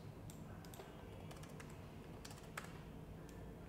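Computer keyboard keys tapped while entering numbers into an Excel spreadsheet: quiet, irregular clicks scattered over a steady background hiss, with no talking.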